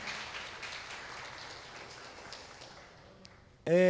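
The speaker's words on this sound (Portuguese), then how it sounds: "Vamos aplaudir Jesus novamente, meus irmãos?" A church congregation at a Christmas celebration service applauds in a dense, steady patter that gradually fades, before a voice breaks in right at the end.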